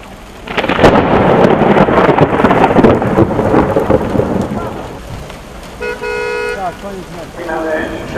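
Violent thunderstorm with heavy rain during a football match, a loud rolling thunder rumble over pouring rain that fades, followed by a few sharp tonal toots as voices speak.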